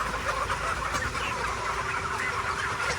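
Chickens and large roosters clucking together in a dense, continuous barnyard chatter, a crowded flock heard close and steady throughout with no talking.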